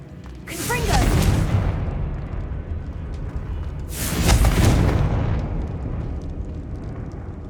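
Two booming fire-spell blasts of Confringo in the Hogwarts Legacy video game, the first near 0.5 s and the second near 4 s, each a loud broad burst trailing into a rumbling decay over steady background sound.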